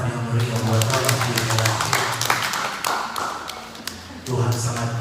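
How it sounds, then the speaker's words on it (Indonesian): Congregation clapping together during a Sunday church worship service, a dense burst of applause mixed with voices and music, loud and close, easing partway through then swelling again. "Kita beri tepuk tangan yang meriah buat Allah."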